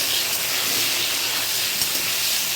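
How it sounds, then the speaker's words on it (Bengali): Potato pieces frying in hot oil in a wok give a steady, close, loud sizzling hiss that holds evenly throughout with no talking. "কড়াইতে তেল দিয়ে দিয়েছিলাম, এবার আলুগুলো ছেড়ে দেবো।"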